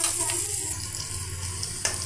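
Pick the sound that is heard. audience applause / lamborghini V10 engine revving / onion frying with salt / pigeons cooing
onion frying with salt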